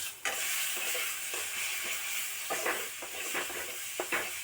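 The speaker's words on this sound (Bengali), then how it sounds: "এবার কিন্তু আমি মশলাটাকে ভালো করে কষিয়ে নেব" Spice paste with chili powder and sugar sautéing in a pan for a pointed gourd recipe, a steady hissing sizzle broken by several soft scrapes and knocks of a spoon stirring.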